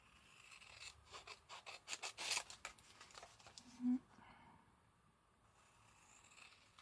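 Scissors snipping paper for craft pocket tags, a quick series of close, crisp cuts followed by a brief pause and softer handling sounds.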